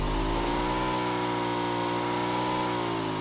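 Vehicle engine in the battle royale game PUBG, a steady mid-pitched hum with layered harmonics that holds evenly for the whole stretch, loud and unbroken with no voices over it.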